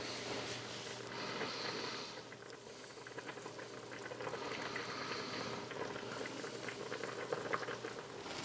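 A pot of coq au vin, chicken stewed in wine, simmers steadily on the stove, giving a soft continuous bubbling and crackling hiss at moderate, close range with no voices.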